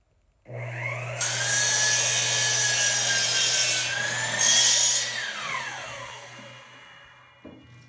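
A power tool cuts a small bevel into a wooden soffit bracket, a steady, loud whining grind that holds for several seconds, changes pitch as the cut progresses, then winds down.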